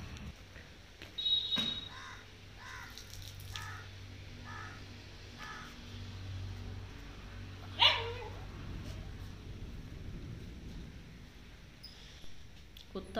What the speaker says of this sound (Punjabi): ਕੁੱਤਾ ਵੀ ਲਾਗੇ ਜ਼ੋਰ ਜ਼ੋਰ ਦੀ ਚੀਕਾਂ ਮਾਰਨ ਡਿਆ ਕਿ ਮੈਨੂੰ ਖੋਲ੍ਹ ਕੇ ਛੱਡ ਦਿਉ